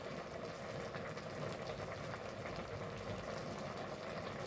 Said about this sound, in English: There's a bubbling away, as you can hear.